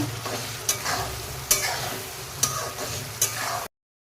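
Onion, ginger, garlic and tomato paste sizzles in a pan for a chicken feet curry, with a steady hiss of frying broken by four sharp scrapes of a spoon stirring at regular intervals before it cuts off.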